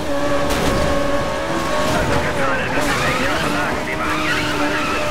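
A Lexus race car in Need for Speed Most Wanted sweeps through a corner at speed, with a steady loud engine drone and tire squeal under continuous talk.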